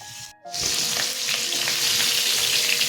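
A hilsa fish head fries in hot oil, giving a steady, loud sizzle that runs without a break after a brief pause at the start, with no talking.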